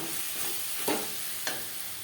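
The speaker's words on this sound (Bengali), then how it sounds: "পেঁয়াজ টমেটোর সাথে মশলা বেশ ভালো করে মিক্স করে দেবো" A spoon stirs spices with onion and tomato in a pan for Bengali pangas fish curry, giving a low steady sizzle with two soft scraping strokes close by.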